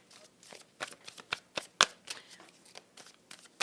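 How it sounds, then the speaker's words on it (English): A deck of Art of Manifestation tarot cards is shuffled close by, a series of soft, crisp riffles and flicks in an uneven rhythm with one sharper snap midway. "I want to get some Art of Manifestation cards for you."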